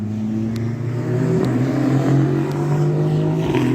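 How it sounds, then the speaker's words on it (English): An exotic sports car revs and drives past at a car show, its engine rising and holding a loud steady note, with a few short clicks over the sustained roar. "we got the exotic cars out today"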